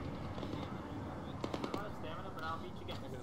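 Gunfire in the video game Arma on a winter Chernarus map: a short cluster of three or four sharp distant shots pops over a steady rumbling background.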